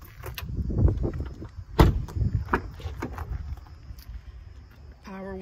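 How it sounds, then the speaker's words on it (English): Power windows working inside a 2018 Chevy Silverado 1500 Redline 4x4 pickup: a series of close clicks and thumps, followed near the end by a short, steady electric motor whine. "Power windows, again,"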